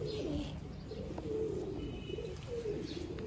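Domestic pigeons coo softly in low, throaty, repeated calls, with faint chirps in the background.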